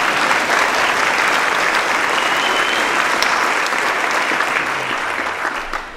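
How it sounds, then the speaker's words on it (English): Steady, full applause from an audience at a Phi Theta Kappa honor society induction ceremony, a continuous wash of many hands clapping that holds level for six seconds. "Let's clap for that."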